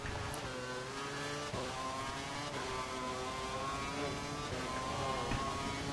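Formula 1 cars in wet qualifying at Canada in the F1 2012 video game, a steady high engine whine with rising and falling pitch as gears change, continuous and fairly loud over rain and road hiss.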